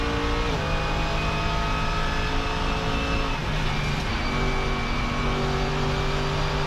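Mercedes GT3 race car at the Nürburgring, its engine holding a loud, steady onboard drone with shifting harmonic tones as revs rise and fall, continuous throughout with no talk.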